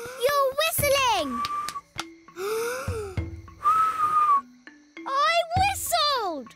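Raa Raa, a cartoon lion, gives a couple of short, clear whistle tones in the middle of excited animated character chatter and cheering.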